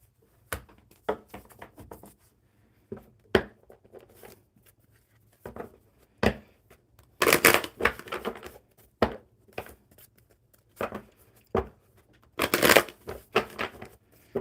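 Tarot cards being shuffled by hand, a series of short riffling and slapping bursts separated by quiet gaps, close and fairly soft, with two longer, louder riffles midway and near the end.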